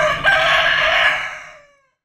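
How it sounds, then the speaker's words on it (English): A rooster crows once, loud and close, a single drawn-out call that fades away over about a second and a half. "But the rooster needs to be killed."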